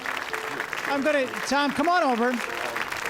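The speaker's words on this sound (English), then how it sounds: "let's take your applause first" Awards-ceremony audience applauding at a Buffalo broadcasters hall of fame presentation, a steady broad wash of clapping running under a host's voice throughout.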